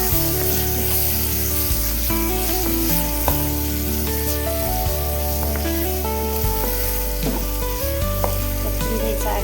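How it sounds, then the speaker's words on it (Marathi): Finely chopped tomato sautéing in a hot pan while cooking ivy gourd bhaji, giving a loud, steady sizzle and frying hiss throughout with occasional stirring scrapes and no talking. "हे परतत असताना त्यात टाकायचा हा बारीक चिरलेला टोमॅटो."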